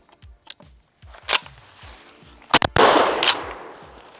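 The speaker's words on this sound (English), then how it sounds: "We're gonna shoot some 2 3/4 through it, just see how she runs." A Maverick 88 Security pump shotgun fires 2 3/4 shells: a few soft thumps and clicks, then a pair of sharp, loud blasts close together, followed by a long rushing roar that slowly trails off.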